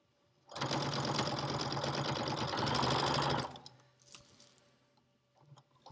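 A sewing machine runs steadily for about three seconds, stitching a potholder seam in a rapid, even mechanical rattle, then stops, leaving quiet room sound.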